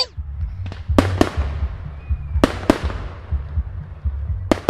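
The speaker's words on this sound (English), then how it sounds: "Daddy Pig is watching the fireworks." Fireworks sound effect for a Diwali celebration in a children's audiobook: several sharp booming bursts with crackling tails over a low steady background, no voices.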